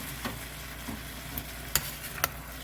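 Leftover lamb stew with new potatoes sizzles gently in a pan, a soft steady frying hiss broken by a few light clinks and taps of a utensil, close and quiet with no talk.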